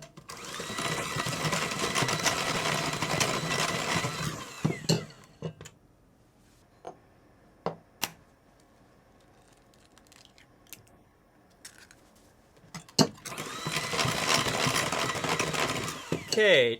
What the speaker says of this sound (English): Next, we beat in the eggs one at a time.